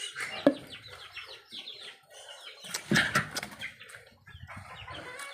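Chickens on a small farm cluck and squawk in short, scattered calls, with some wing flapping. The birds are fairly close and there is no talk.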